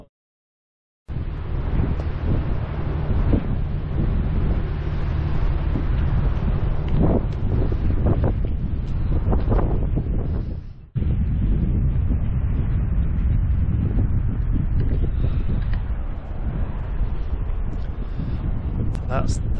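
Strong wind buffets the microphone at a mountain col campsite on the Tour du Mont Blanc, a loud continuous roar with gusting surges, a brief drop around eleven seconds, then steady blustering again.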